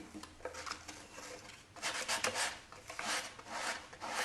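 Sandpaper rasping back and forth along the edge of a wooden harvest box, a steady run of close, quiet scraping strokes with no talking.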